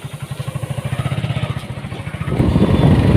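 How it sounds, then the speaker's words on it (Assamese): A motorcycle engine idles with a steady low pulsing thump, then revs louder and rougher toward the end, close by, with no talk over it. "যাও এতিয়া মই এইয়া বাইকত উঠলো"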